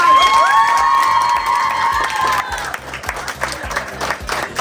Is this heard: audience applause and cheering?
yes